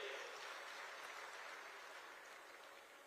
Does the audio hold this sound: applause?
yes